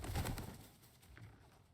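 A bird in the game God of War Ragnarok gives a short, quiet coo with a soft flutter, close by and alone, over a faint game background.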